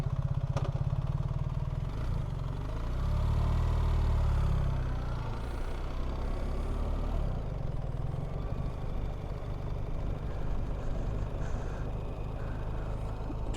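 A BMW R1300GS motorcycle rides through estate grounds, its engine a steady low drone with a swell in the middle and faint clatter, heard close and continuous with no talking.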